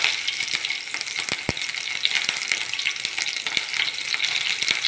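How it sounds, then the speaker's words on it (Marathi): Cumin seeds, garlic and chili pieces fry in hot oil, giving a loud, dense, continuous crackling sizzle with small sharp pops, close up and without speech. "छान तेलात फ्राय होऊ देऊया."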